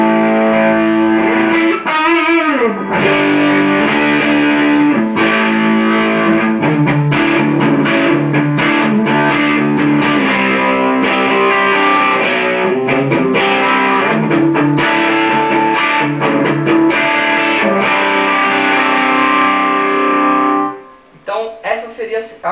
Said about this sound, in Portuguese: só o meu ampli ligado, simulação, o meu FX1 ligado, o reverb, né, e o compressor